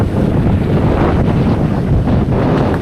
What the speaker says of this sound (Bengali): এখানে খুব জোর হাওয়া চলছে